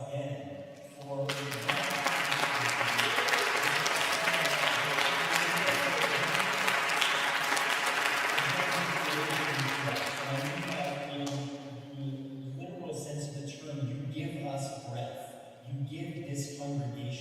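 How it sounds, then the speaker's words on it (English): A church congregation applauds during a Sunday service, a full, loud burst of many hands that swells quickly, holds for about ten seconds, then tapers off as a voice and tonal sound carry on. "I want to hear applause again for"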